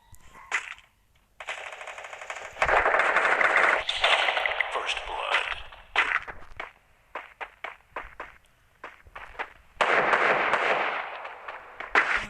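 Gunfire in a 4v4 shooting video game: loud rapid automatic bursts and scattered single shots come in clusters separated by short quiet gaps, close and punchy throughout.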